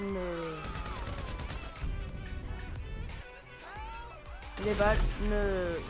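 Gunfire in the video game GTA 5, with shots fired into water, breaks out in rapid bursts of sharp cracks that sit beneath steady, near French-speaking talk.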